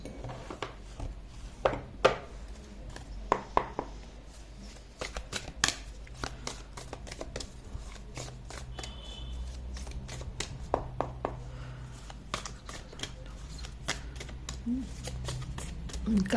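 Tarot-style playing cards are shuffled and handled for an archetype reading, a quiet, close run of soft riffling flicks and taps.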